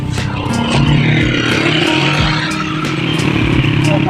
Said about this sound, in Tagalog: May motor, mauna sila.